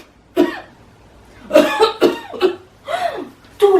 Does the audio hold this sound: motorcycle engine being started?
no